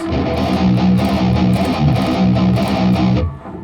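A dense, chugging distorted electric guitar riff in a thrash metal style, loud and steady with rhythmic palm-muted pulses, stopping abruptly at the end.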